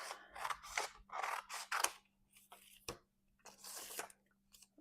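Scissors cutting through a paint print on paper, a series of close, crisp snipping and slicing strokes in uneven bursts with short pauses between them, over a low steady hum.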